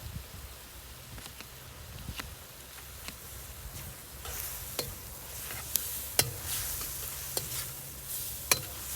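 Garlic and mushrooms fry softly in a pan over a campfire, a quiet steady sizzle broken by scattered sharp crackles and pops.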